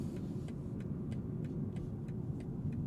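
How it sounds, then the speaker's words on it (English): Turn signal ticking inside a 2025 BMW M340i, a steady, evenly spaced series of soft clicks at roughly three per second over a low, constant cabin and road rumble. "I do need to show you things like the turn signal sound,"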